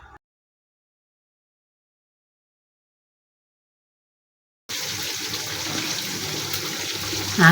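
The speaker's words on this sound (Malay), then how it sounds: "Dah pun mendidih." Fish curry spice paste with ground chili boils in water in a pot, giving a steady bubbling and hissing simmer that starts abruptly after a silent stretch and holds at a constant level.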